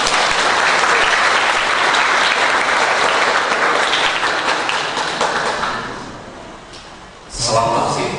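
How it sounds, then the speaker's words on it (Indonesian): An audience at a leadership seminar held in an Islamic boarding school claps loudly and densely, the applause fading toward the end before a short final burst, with a few voices mixed in. "tepuk tangan bagi kita semua"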